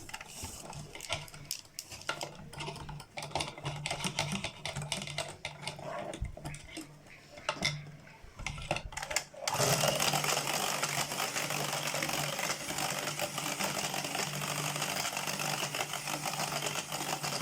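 Electric mixer beating cake batter after orange concentrate is added, a steady close whirring drone with rattling mechanical texture that grows louder and denser partway through and runs continuously.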